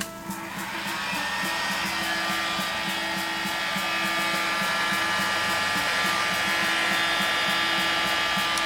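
Heat gun blowing steadily on heat shrink tubing over cables, a loud continuous whooshing whine with a buzzing motor hum, close and unbroken for several seconds, with no voices.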